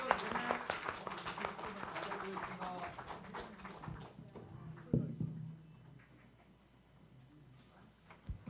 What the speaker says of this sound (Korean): 우리 선교단 팀에게 뜨거운 박수로 잘 다녀오시라고.